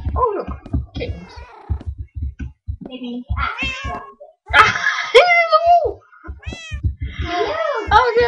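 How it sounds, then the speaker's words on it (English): Minecraft kittens give repeated high, wavering meows, some drawn out into wails, close and loud amid blocky game sounds, while a person talks and greets over them. "Oh, look. Kittens."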